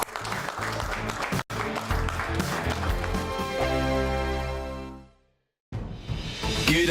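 A studio audience on a British TV talk show applauds a guest, a dense wash of clapping blended with a loud music sting that swells, fades to brief silence, then gives way to new sound.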